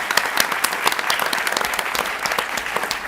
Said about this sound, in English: Let's also give another round of applause for the Summer Cloud Singers of the Keweenaw Bay Indian community